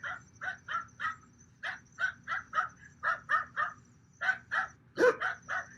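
A dog on a home security camera at night barks repeatedly at a strange creature, a rapid run of short, sharp, evenly spaced yaps at moderate distance with only brief pauses between them.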